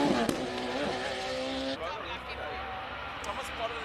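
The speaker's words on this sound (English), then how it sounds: "such high performance rare single seaters, and feeling the noise of the engine through your stomach" At the Simola hillclimb, a rare high-performance single-seater race car screams past, its engine loud and near at first, then fading into a steadier distant drone beneath a commentator's talk.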